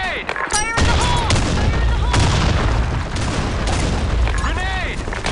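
Video game battle in a sandstorm match: a grenade blast and a dense fusillade of gunfire crackle and boom almost continuously, with shouted in-game voice callouts layered over the shooting.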